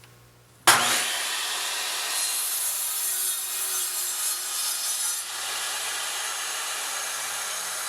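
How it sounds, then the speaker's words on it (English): A chop saw starts abruptly and cuts down through a wood block, giving a steady, loud, close whine and rasp that holds for several seconds and eases slightly near the end, with no voices. "I turn it on, and as I lower it, I will bring the machine out and then cut back in"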